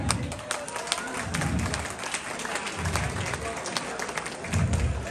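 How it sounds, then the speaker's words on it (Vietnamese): An audience at a Bạc Liêu party applauds singer Kim Mỹ, a dense, steady round of clapping that carries through the whole stretch with a faint voice beneath. "Xin một tràng vỗ tay cho chị Kim Mỹ."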